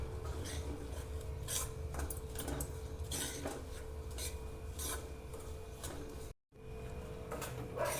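A spoon scrapes and stirs coarsely ground moong dal roasting in ghee in a pan for halwa, giving repeated soft rasping strokes in a steady rhythm, close and quiet with a brief pause near the end.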